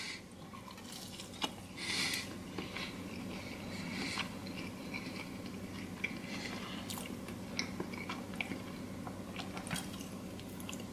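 Close, quiet chewing of a bite of pecan caramel cheesecake, with soft wet mouth sounds and occasional small crunches spread through the stretch, no talking.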